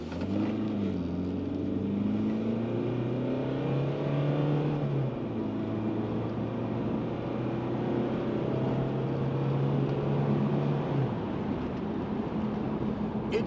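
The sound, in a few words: car accelerating at full throttle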